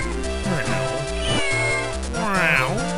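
A cartoonish cat meows repeatedly in The Legend of Zelda: The Minish Cap, a rising and falling synthesized mewing heard close and clear over game music.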